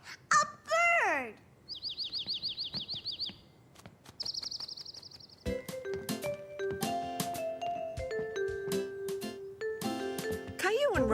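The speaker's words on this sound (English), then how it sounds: "Look! A bird!" A cartoon bird chirps in quick repeated trills, followed by bright tinkling, chiming music notes, close and clear with short gaps between bursts.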